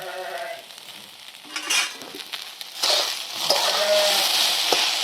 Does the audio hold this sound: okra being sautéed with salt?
yes